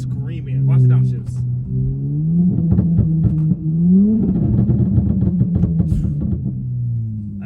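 Exhaust burble from a tuned car during downshifts, heard from inside with the windows up, with rising and falling engine revs and crackling pops under someone talking over it.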